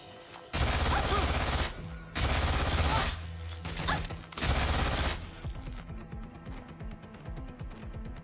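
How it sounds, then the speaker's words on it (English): Gunfire from the video game Watch Dogs comes in three loud, dense bursts of rapid shots separated by short gaps, then trails into quieter scattered crackles and echoes. "Shots fired."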